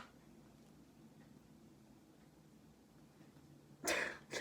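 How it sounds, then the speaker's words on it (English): A person with a cat allergy sneezes indoors: one sharp, close burst near the end that breaks a long stretch of quiet room hiss. "I'm gonna sneeze."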